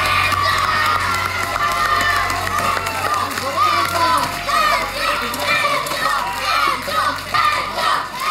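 A crowd of kids cheers and shouts excitedly at a Beyblade battle league, a loud sustained mix of yelling and cheering that rises and falls in waves.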